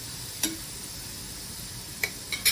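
Chicken kola urundai meatballs frying in a pan, a faint steady sizzle of oil with a few sharp metallic ladle taps against the pan.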